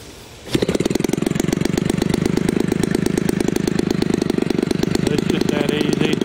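A Homelite 30cc Silver Racer RC engine fires up suddenly and runs alone at a loud, rapid, steady buzzing pulse close by.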